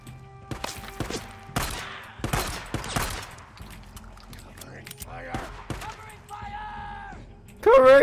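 Scattered gunshots in the Days Gone game, several sharp bursts and single cracks spread irregularly across the stretch, loud and close, with a player talking between them.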